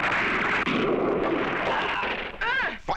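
Cannon fire booms across a ship's bow in a 1976 film trailer for The Muthers, a loud, sustained roar of blasts followed at the end by a brief voice.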